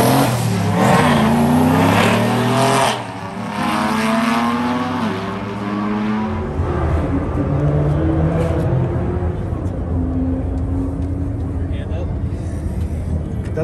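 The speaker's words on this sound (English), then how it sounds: "That's still the Crown Vic engine" A car with a turbocharged Crown Vic engine, set up for autocross, revs and accelerates at a track, loud rising and falling engine tones sweeping up and down, then settling into a rougher, steadier drone.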